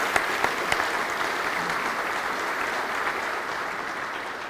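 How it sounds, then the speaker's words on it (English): Audience applause at a Holocaust remembrance forum in the Texas Capitol in Austin, a steady sustained wash of many hands clapping from a seated crowd, moderately distant and continuous throughout. "Let's give him another round of applause."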